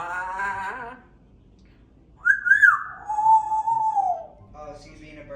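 An African grey parrot whistles a rising, warbling bird-like call for about two seconds, imitating bird sounds, after a stretch of human talk; a voice speaks again near the end.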